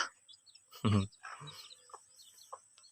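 Hens of a white-eared chicken breed give one loud close cluck followed by softer clucks and short calls, with quiet background noise between them.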